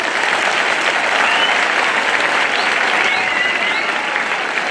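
A crowd at a Turkish folk music concert claps in a loud, sustained wash of applause with a few whistles and cheers rising above it.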